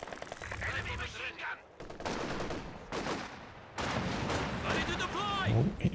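Machine gun bursts and scattered gunfire in the Company of Heroes 2 video game, rattling repeatedly under a caster's continuous talk, with the battle noise loud and busy throughout.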